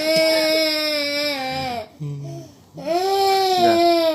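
An infant cries in long, strained wails, loud and close, breaking briefly for a breath and a small whimper before the crying resumes just as strongly.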